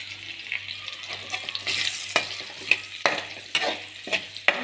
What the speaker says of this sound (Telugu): వేగాలి, బాగా వేగితేనే టేస్ట్ బాగుంటుంది.